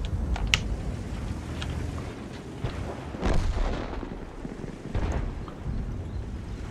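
Tank cannon fire in the World of Tanks video game, several heavy booming shots with rumbling tails spread across the stretch, loud and close, no talking.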